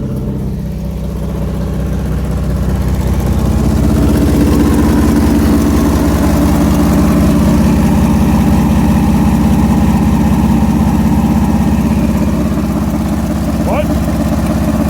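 An engine starts and keeps running at a steady idle after the starter is cranked, a loud continuous low rumble close by, with a person talking over it.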